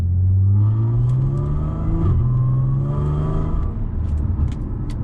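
Audi S4 3.0T revving with aftermarket Integrated Engineering exhaust pipes, heard from inside with windows up: a steady, loud, raspy engine drone climbing and falling in pitch, with a rattly edge throughout.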